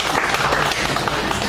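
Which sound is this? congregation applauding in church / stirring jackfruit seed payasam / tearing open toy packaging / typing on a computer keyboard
congregation applauding in church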